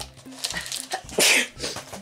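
A single sharp sneeze bursts out close by, brief and loud, with faint rustling and breathing around it.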